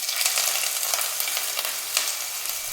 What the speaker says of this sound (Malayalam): ഒരു ചെറിയ കഷ്ണം ഇഞ്ചിയും 5 അല്ലി വെളുത്തുള്ളിയും ചതച്ചത് ഇതിലേക്ക് ഇട്ട് കൊടുക്കാം